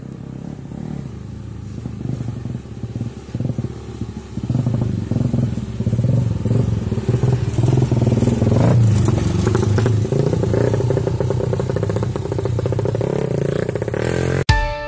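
A motorcycle rides over a rocky, slippery path toward Kawah Rengganis crater, its engine loud and close, revving unevenly amid continuous clattering and scraping of stones under the tyres.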